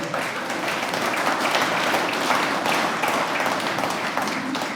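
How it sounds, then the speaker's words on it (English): Sustained audience applause and hand clapping fills a room for several seconds, a dense, steady wash of many hands, fairly loud with no talk over it. "that's enough of that goddamn hand clapping"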